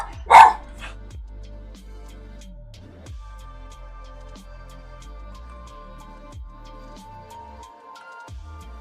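A dog gives a single sharp, loud bark right at the start, then the scene falls to a quiet background of steady soft tones with a few faint thumps.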